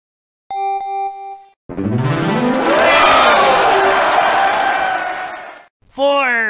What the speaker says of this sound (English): You get a grouchy cheer for that one.